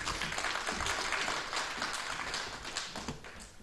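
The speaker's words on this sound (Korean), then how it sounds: "큰 박수로 청해 주시기 바라겠습니다." Audience applause at a Korean conference presentation on deep-learning use of online product images, a dense steady wash of many hands clapping that fades slightly toward the end, with no talk.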